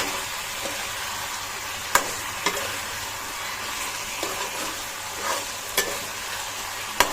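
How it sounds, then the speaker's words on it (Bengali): Chicken sautés with spices in a pan at home, a continuous close frying sizzle broken by periodic scrapes and taps of a spatula against the pan. "তো আমি তাকে চিকেন কষাচ্ছি"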